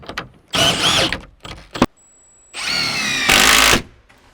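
A power tool drives nuts tight during a Harvey Allen Game Getter installation, in several short whirring bursts with brief pauses and a final longer, louder run, close up.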